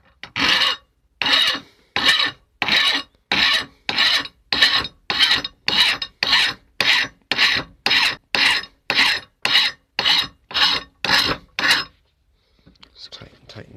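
A hand file rasps along the top edge of a worn lawn mower blade in about seventeen even, steady forward strokes, loud and close, each followed by a brief pause, before the filing stops and faint handling noise follows.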